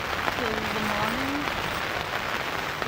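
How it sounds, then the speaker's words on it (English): Steady rain falls outdoors in wet weather on a hiking trip in Børgefjell, a constant even hiss throughout with a brief faint voice-like tone early on. "Today we got wet weather. It's raining till the morning."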